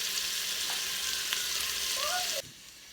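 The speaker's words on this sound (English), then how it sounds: "we're going to saute the bacon, the 4 slices of bacon in the Instant Pot until it's crispy" Four slices of chopped bacon sauteing in an Instant Pot, a steady close sizzle and crackle of frying, briefly stirred, then cutting abruptly to near quiet.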